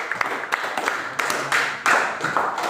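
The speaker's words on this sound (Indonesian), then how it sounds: "Oke, tepuk tangan dulu buat Kiwan." Classmates in a classroom applaud a student, scattered hand claps rising and falling in short bursts, fairly close, with a few voices mixed in.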